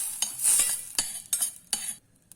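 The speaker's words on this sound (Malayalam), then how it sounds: "നന്നായിട്ടൊന്ന് വഴറ്റണം." Onion and garlic sautéing in butter in a pan for beetroot soup, heard as a few sharp spoon scrapes and clinks against the pan over a soft sizzle, close up with no talking.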